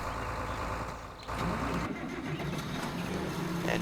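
Tractor engine in Farming Simulator 2013 running steadily with a low rumble, joined by intermittent beeping and mechanical clatter, fairly loud with no talk.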